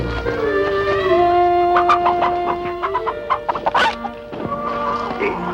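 Chickens cluck and squawk in a rustic frontier town setting, a steady run of close, overlapping hen calls with a few sharper bursts, no talking.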